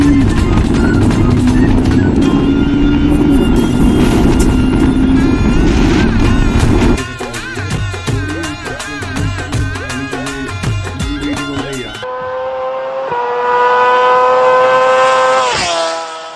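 A Triumph 400 motorcycle engine starts and revs loudly up close, shifting from a rough idle to choppy throttle blips and ending in a rising, sustained rev, with no talking.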